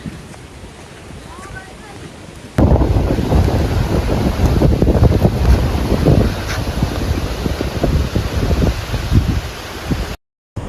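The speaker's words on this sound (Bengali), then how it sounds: "প্রচুর বাতাস" Strong wind roars and buffets the microphone on Lal Kakra Beach, Cox's Bazar, under a dark pre-rain sky, starting abruptly after a quieter stretch and blustering loudly until a brief cutout near the end.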